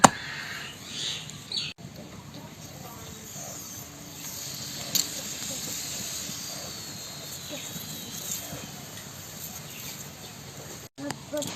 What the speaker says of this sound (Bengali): ওই একইভাবে সব পরোটাগুলো ছেঁকে নেব